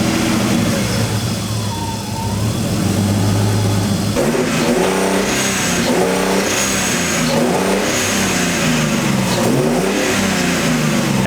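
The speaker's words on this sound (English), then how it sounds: "we have to start the car up and make sure everything's still looking good." A six-cylinder RB20DET turbo engine, fresh from a coilpack bracket install, runs loud and close, with a steady idle that shifts partway through into repeated rising and falling revs.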